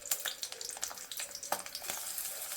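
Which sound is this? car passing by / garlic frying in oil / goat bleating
garlic frying in oil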